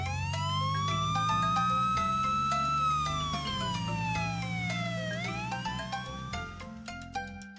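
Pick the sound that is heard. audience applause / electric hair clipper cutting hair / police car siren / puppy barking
police car siren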